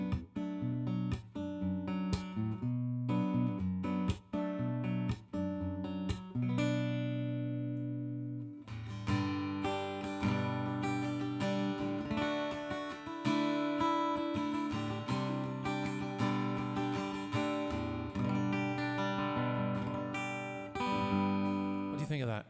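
Martin D-18E acoustic guitar played through a ToneDexter pedal, with a run of plucked single notes followed by strummed chords ringing steadily for about twenty seconds, close and clear, no talking.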